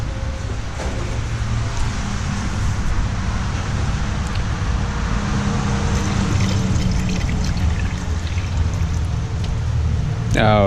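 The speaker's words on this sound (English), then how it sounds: "I'll just throw the water in for now." Water pours in a steady stream into a truck's coolant reservoir, with continuous splashing and gurgling. Road traffic hums faintly in the background.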